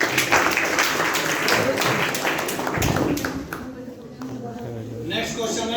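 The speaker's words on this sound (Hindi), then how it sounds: "तालियां।" Students in a classroom clap during a Children's Day lesson, producing a burst of scattered, fairly loud applause that fades out after a few seconds.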